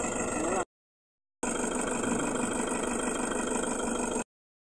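Engine of a Toyota van idling at a steady, even rumble, close and alone, cut off by a silent gap of about a second before it resumes and then stops.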